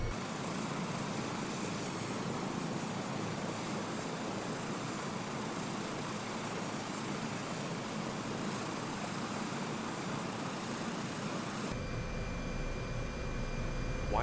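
An Airbus H225 helicopter engine in Microsoft Flight Simulator 2024 roars as a loud, steady broadband whine and rush, unbroken throughout and shifting in tone near the end, with no talking.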